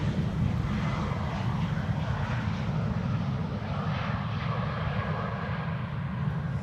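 A Royal Jordanian airliner arriving at Amsterdam Schiphol Airport, heard as a steady, fairly loud jet engine roar with a heavy low rumble that holds level throughout, with no voices over it.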